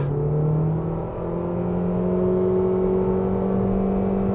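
A BYD Dolphin G DM-i hybrid accelerates hard in HEV sport mode with traction control off, giving a steady, droning engine and motor whir whose tone climbs gradually, heard from inside the car without talk.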